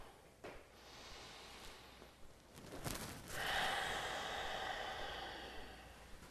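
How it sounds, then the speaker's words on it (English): Slow, controlled nasal breathing during a yoga session for anxiety, heard as soft airy inhales and exhales, close and quiet, with a longer drawn breath in the latter half and no talking. "start that slow, controlled breathing in and out of the nose"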